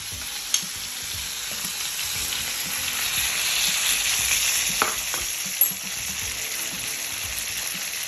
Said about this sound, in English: When we're nice and brown, we're going to flip the steak and start to colour on the other side.